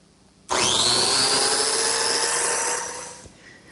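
A biscuit joiner plunges into hardwood and cuts a slot: a sudden loud, steady high-pitched whine with a rising sweep lasts about three seconds, then spins down. It is close and loud, with no talking.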